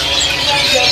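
A caged jenggot mini songbird calls with short chirps and bright tweets over a constant background hiss, close and fairly loud.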